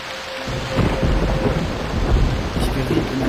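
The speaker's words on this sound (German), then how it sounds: "Ich geriet in ein Unwetter und kam vom Kurs ab." In the video game Stranded 2, a thunderstorm sounds with steady heavy rain and deep rolling thunder, loud and continuous with no talking.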